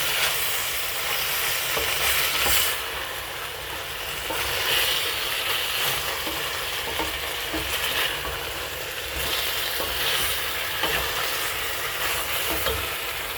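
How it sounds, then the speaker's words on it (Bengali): Chicken being stirred and fried in a pan while soup water boils, a steady broadband sizzle with scraping stir noises through the whole stretch, close and fairly loud, no talking. "ততক্ষণে আমি চিকেনটাকে আর একটু নাড়িয়ে নিই।"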